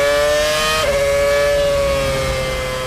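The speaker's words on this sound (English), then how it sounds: "Lewis suffered a tyre failure and was forced to complete the best part of the lap on a flat tyre." Formula 1 McLaren car limping along on a flat tyre after a right front puncture, a steady high engine whine holding one pitch with a brief dip, loud and continuous with no talk.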